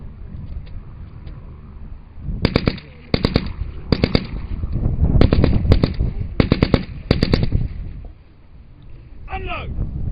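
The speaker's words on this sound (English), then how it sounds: "We had very few problems with this machine gun on this shoot here." Machine gun at a WW1 reenactment firing several rapid, loud bursts in quick succession with short pauses between them, heard outdoors over wind and background noise.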